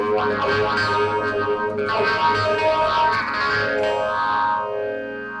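Electric guitar chords swirl through two MXR phaser pedals running in series, producing a thick, sweeping, whooshing modulation that rises and falls, loud and continuous before fading slightly.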